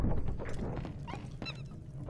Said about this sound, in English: that is my dog playing with one of his toys